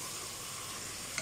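Chicken and zucchini (kusa) being stirred in a pot for a chicken vegetable soup, giving a steady soft sizzle with faint scraping of the spoon throughout, close and alone.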